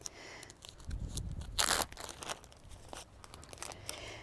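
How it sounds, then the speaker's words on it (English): Dry dill heads being harvested from a garden in early August give off a short burst of crisp crunching and crackling, loudest for a moment near the middle, then a few fainter rustles. No one speaks. "Now the next thing we're going to harvest are these wonderful heads of dill."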